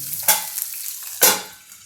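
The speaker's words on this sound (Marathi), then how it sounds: "जिरं फुललं आपलं मस्तपैकी, याच्यामध्ये हिंग टाकलं आणि आता आपण मिरची टाकून घेऊ" Green chillies hit hot oil with spluttering cumin and asafoetida, two loud sharp bursts of sizzle about a second apart, each fading quickly into quieter crackle, close and without talk.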